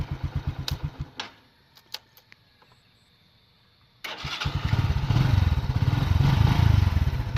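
A Bajaj CT 125 motorcycle with a hard-starting push start cranks in rapid rhythmic pulses, falls quiet with a few clicks, then fires up and settles into a loud, close idle.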